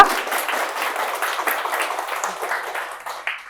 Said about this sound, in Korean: 힘찬 감사의 박수 부탁드리겠습니다